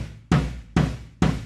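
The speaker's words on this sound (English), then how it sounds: "using just the 18-inch kick drum sound, which just sounds like this" Three deep 18-inch kick drum hits from a Roland TM-2 drum trigger module, evenly spaced about half a second apart, each a loud boomy thump with a short decaying tail, alone with no talk.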